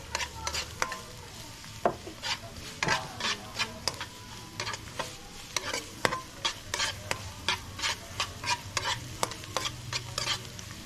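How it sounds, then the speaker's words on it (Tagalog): Garlic sautés in a little oil in a pan during backyard cooking, with a soft background sizzle broken by frequent rhythmic scraping strokes of a utensil stirring against the pan, close and steady. "Magigisa lang tayo ng bawang. May konting mantika na pala to guys."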